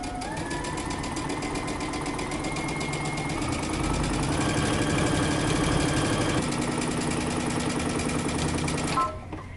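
A sewing machine runs steadily, stitching a dress placket half an inch from a pressed edge for a Simplicity 8084 dress, its rapid needle chatter continuous and close before stopping near the end.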